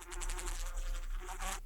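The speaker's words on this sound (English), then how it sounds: "Bees buzzing." Bees buzzing as a stock sound effect, a steady, fairly loud insect drone that holds unbroken through the short clip, with no voices over it.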